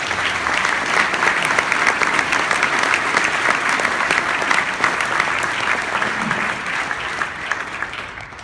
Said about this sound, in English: So if we could give a round of applause for everyone who works at prep.